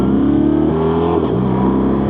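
A motorcycle accelerating hard and upshifting through gears with a quick shifter, engine note climbing in steady rising pitches with brief clean breaks between gears, loud and close with no talk.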